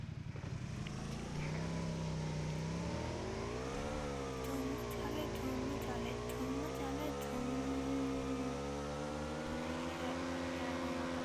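A game vehicle in PUBG drives along with a steady engine drone that rises and falls in pitch as it speeds up, loud and continuous throughout.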